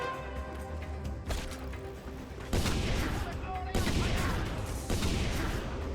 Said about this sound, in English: Feel the power of my fully upgraded grenade